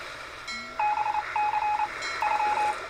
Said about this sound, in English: Damn this obscure beeping noise.